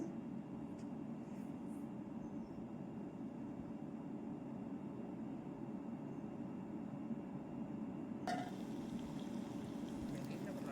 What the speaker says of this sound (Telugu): ఒక లీటర్ నీళ్ళు పోసుకున్నాను అండి ఇప్పుడు హాఫ్ లీటర్ పోస్తున్నాను